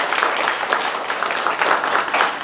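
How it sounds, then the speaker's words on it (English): Convention panel audience bursts into brief, lively applause as a volunteer comes forward, a steady patter of many hands clapping throughout. "Round of applause."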